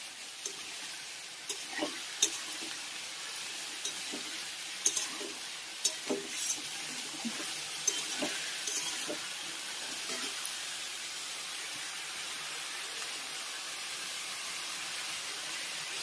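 Vegetables frying in a wok of oil with panch phoron and green chilli, a steady faint sizzle with soft intermittent stirring scrapes throughout, no talking.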